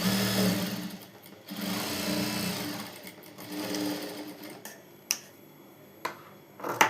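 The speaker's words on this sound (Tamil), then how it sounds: "அங்கே ஒரு தையல் போடணும்." A sewing machine runs in bursts, stitching a seam in fabric during tailoring. Its steady mechanical whirr rises and falls, with a few sharp clicks near the end, close and moderately loud, with no talk.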